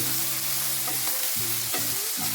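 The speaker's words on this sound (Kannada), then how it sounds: "ಈಗ ಇದನ್ನು ಚೆನ್ನಾಗಿ ಮಿಕ್ಸ್ ಮಾಡಿ" A tomato soup base seasoned with salt and pepper powder is stirred and fried in a pan, with a steady sizzle broken by quick scraping strokes of a spoon close up.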